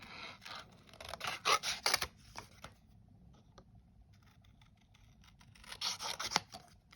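Scissors snip around a stamped paper image in close, quiet bursts of short cuts and paper rustle, with a pause in between before another cluster of snips.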